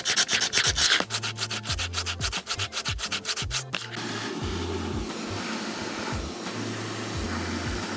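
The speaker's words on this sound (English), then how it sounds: "we're just going to go take a bit of sandpaper and just clean up the exit holes of the drill bit" Rapid back-and-forth scratching of sandpaper cleaning up drilled exit holes in a Nissan RB26 engine oil pan for a few seconds, then a steadier, smoother rubbing, close up over a constant background hum.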